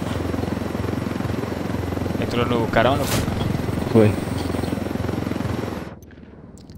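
A helicopter in the video game Ghost Recon Wildlands gives a steady, close rotor and engine drone under players talking, with a few brief louder bursts, before cutting away near the end.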